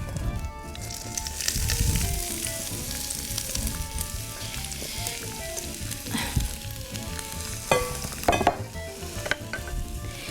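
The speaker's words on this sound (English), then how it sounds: "The second pan, you are going to start with your onions and your peppers." Onions and peppers frying in a pan, a bright continuous sizzle with crackles and scraping stirs, louder bursts of spatter toward the end.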